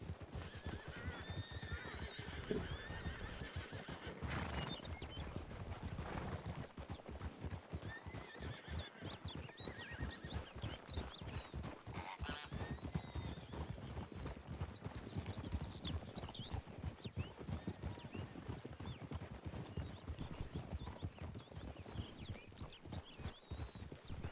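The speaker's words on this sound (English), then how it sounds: "What is that horse doing?" A horse clip-clops with steady hoofbeats and lets out repeated high whinnies, moderately near and alone, with no talk over it.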